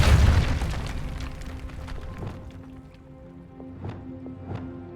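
The Depulso force spell fires in Hogwarts Legacy with a deep booming burst up front, then a decaying magical whoosh with faint tonal chimes and small pops trailing off.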